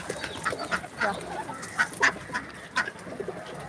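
A flock of ducks and pigeons gathered together while feeding, giving a string of short quacks and calls scattered across the moment, fairly close and moderately loud over a soft outdoor background.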